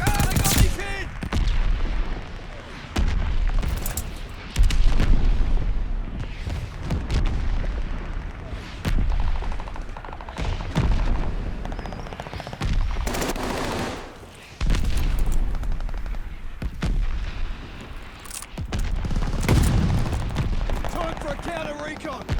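Mortar fire and gunfire in the Call of Duty Vanguard video game: dense, continuous bursts of shots and heavy booming impacts, loud and near, with game voice lines over the battle.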